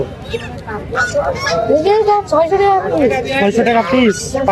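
Domestic ducks at a poultry market in Mirpur, Kushtia, give repeated nasal honking quacks up close, overlapping with busy voices and market chatter.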